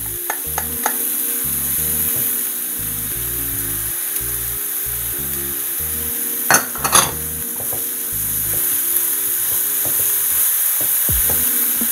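Capsicum and carrot pieces cooking in a pan, a steady low sizzle with a couple of sharp utensil clinks against the pan partway through, close and moderately loud.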